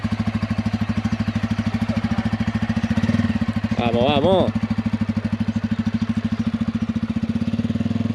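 A Rouser N250 motorcycle engine runs with a steady, rapid putter as it rides along. Partway through, a person speaks briefly over the engine.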